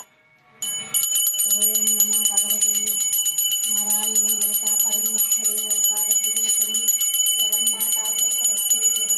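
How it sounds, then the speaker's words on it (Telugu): A large temple bell rings in rapid continuous strikes that start suddenly and keep a steady metallic clang with bright sustained overtones, loud and close. Faint chanting or a voice sits underneath. "ఇక్కడ పెద్ద గంట కావాలన్నా పెద్ద గంట పెట్టిన, ఆడొక గంట ఈడొక గంట."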